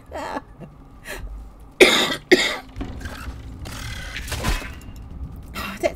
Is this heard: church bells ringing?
no